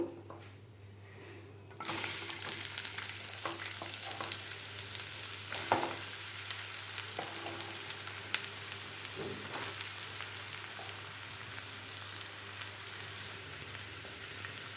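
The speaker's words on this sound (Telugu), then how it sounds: "ఆయిల్ వేడెక్కింది ఉల్లిపాయలు వేస్తున్నాను" Chopped onions drop into hot oil in a pan for a broad bean and tomato masala curry, setting off a sudden loud sizzle that keeps up as a steady, close frying hiss with occasional stirring.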